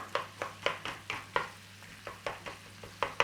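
Lamb mince and onions cooking down in a pan for a lamb and mint pie. Soft sizzling sits beneath a steady series of about a dozen rhythmic scraping strokes as a spatula breaks up the meat, each one crisp and close.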